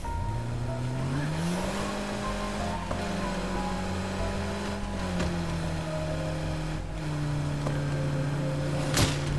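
A car drives in the zombie-survival video game State of Decay 2, its engine a steady drone that rises and holds, falls back midway, and ends with a sharp tire squeal.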